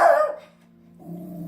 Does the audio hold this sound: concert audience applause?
no